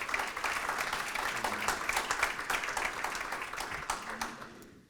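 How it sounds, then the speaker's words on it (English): A panel discussion audience breaks into applause, a full steady round of many hands clapping that tapers off at the end, with no talk over it. "I think it deserves applause."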